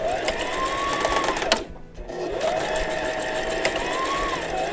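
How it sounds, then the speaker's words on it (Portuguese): Sewing machine stitching a polyester strap for a fabric basket bag, a steady continuous whirring hum with a brief pause midway before running on, loud and close. "vamos pegar a parte da alça de poliéster, vamos juntar e passar uma costura"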